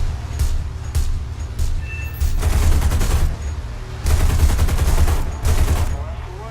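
Rapid 20mm cannon bursts from a bomber's tail gunner in the War Thunder air combat game, several loud sustained volleys over a steady droning engine roar, with short pauses between bursts.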